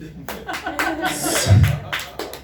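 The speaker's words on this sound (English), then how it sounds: "You can applaud that" A stand-up comedy crowd gives scattered claps in a club. The short uneven bursts come mixed with the comedian's voice and some chuckling, ending in a few separate claps.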